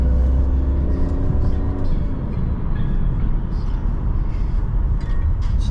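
Inside a BMW 328i E46 driving on winter roads, the inline-six engine gives a steady low rumble and drone under road noise, with a faint tonal whine fading out early.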